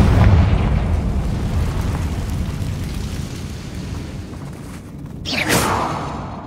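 A Confringo blasting curse from the Hogwarts Legacy video game bursts out as one short, sharp blast late on, rising above a constant rumbling, rain-like background wash.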